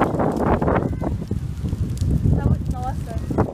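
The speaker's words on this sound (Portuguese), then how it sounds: "tá ventando demais" Strong wind buffets the microphone in gusty, roaring bursts, close and loud, with faint voices in the background.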